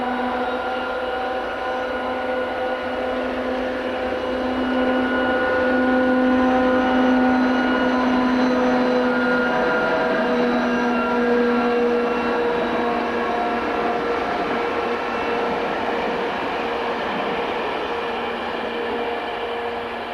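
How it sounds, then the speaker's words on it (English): DR Class 232 diesel locomotive number 232046 pulling its train away from a station toward Erfurt, a loud, sustained engine drone with steady tonal hum that swells gradually and stays close throughout. "Number 232046 accelerates its train away from the station whilst heading for Erfurt"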